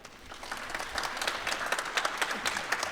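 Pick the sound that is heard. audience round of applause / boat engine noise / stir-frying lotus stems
audience round of applause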